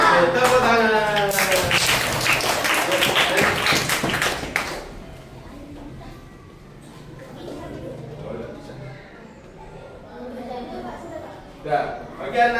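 Children in a classroom clapping hands in a quick rhythmic pattern for about five seconds, loud and close amid voices, followed by quieter classroom chatter and a teacher speaking.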